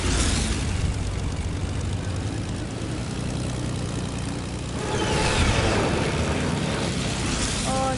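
Video game airplane passing overhead, a broad propeller-engine drone that holds steady then swells louder in the second half amid game noise.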